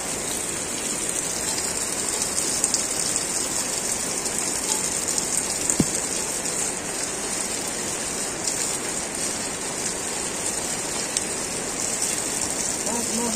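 Drizzling rain falls at a rainbow trout fish farm in Nuwakot, making a steady, even patter and hiss throughout with no breaks.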